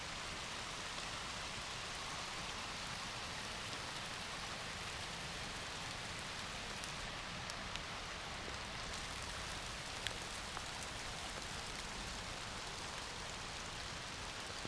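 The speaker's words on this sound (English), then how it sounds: "it's raining even harder, so that kind of sucks" Heavy rain pours steadily at a deer-hunting camp, a dense, continuous hiss of drops drumming on surfaces for the whole stretch with no talk, only a couple of faint clicks breaking through.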